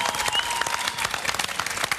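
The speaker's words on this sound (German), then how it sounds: "Und natürlich jetzt ein Applaus für die anderen Künstler hier auch." A crowd at a summer song contest gives the other competing artists warm, steady applause, close and loud, with a few whistles rising above the clapping.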